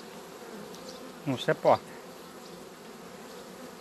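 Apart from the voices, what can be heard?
honey bees buzzing at an open hive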